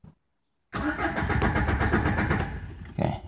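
A Renault Clio with an immobilizer warning light cranks repeatedly without catching, a loud rhythmic churning of the starter that runs for over two seconds and then stops, heard close up after brief silence.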